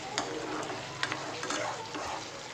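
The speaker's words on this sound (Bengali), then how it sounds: "আবারও মিক্স করে নিচ্ছি একবার ভালো করে, যাতে মশলাটা ধরে না যায়" Gota masala chicken is stirred in a pan with no water added, a steady scraping and low sizzle with a few sharper clicks of the spoon against the pan.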